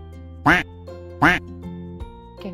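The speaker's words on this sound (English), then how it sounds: "A quack, quack sound. Quack, quack sound. Yes, very good, Kitty. It's a duck." A farm duck quacks twice, two loud, clear, evenly spaced quacks close to the listener. Then come softer sounds that may be a voice. The background stays quiet.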